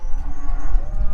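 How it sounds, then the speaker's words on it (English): Cows moo steadily on a farm as the herd returns to the handling area for sorting, with deep, drawn-out lowing that runs continuously at close range. "It's just the cows"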